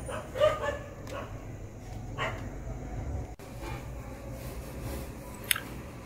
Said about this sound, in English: please excuse me for my dogs